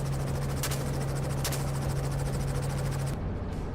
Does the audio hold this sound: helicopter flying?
yes